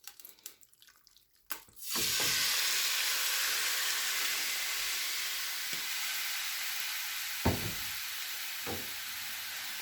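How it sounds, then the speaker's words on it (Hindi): Marinated chicken hits a pan with a spoonful of hot cooking oil, breaking into a loud, steady sizzle that hisses on continuously, broken by a few sharp clinks of a utensil against the pan. "इसमें 1 चम्मच कुकिंग ऑयल डालेंगे। इसमें मैरिनेट किया हुआ चिकन शामिल कर देंगे।"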